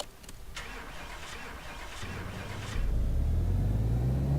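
A front-wheel-drive car in Car Mechanic Simulator 2018 starts up on a dyno, the engine catching after a brief crank and settling into a loud, steady rising rumble close by.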